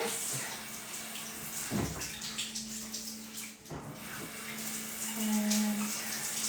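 Tap water runs steadily into a sink while a skincare brush is rinsed, a continuous close splashing flow with a few brief interruptions and soft handling clatter.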